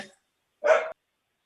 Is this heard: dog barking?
yes